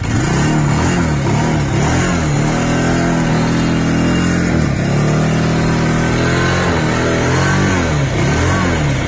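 A Bajaj Pulsar 180F motorcycle engine and exhaust revved repeatedly up and down while standing, close and loud, with rising and falling pitch sweeps over a steady idle rumble and no talking.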